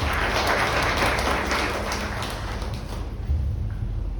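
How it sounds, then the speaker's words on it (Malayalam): A church congregation claps together during a Sunday sermon, a steady, dense wash of applause that continues evenly for several seconds with no voices over it. "തീർച്ചയായിട്ടും നമുക്ക് കൈയടിച്ച് നമ്മളതിനുള്ള നന്ദി പ്രാർത്ഥിച്ചു"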